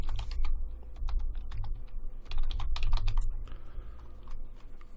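Rapid keystrokes on a computer keyboard as a username and password are entered, irregular clicks and taps running steadily over a low background hum, close and clear with no speech.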